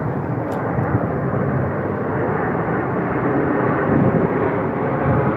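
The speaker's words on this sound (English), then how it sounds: "And there's another plane." A propeller airplane passing overhead outdoors on a calm day, heard as a steady, loud broadband engine drone that holds level and swells slightly toward the end, with no talking.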